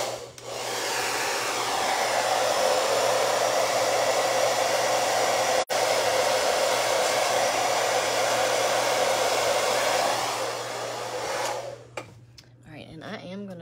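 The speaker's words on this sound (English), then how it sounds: "I'm gonna dry it with the hair dryer real fast" A hair dryer blows steadily on freshly stenciled paint on a wooden door hanger, a loud close whoosh with one split-second cut near the middle. It runs about eleven seconds, then switches off and winds down into quiet handling noise.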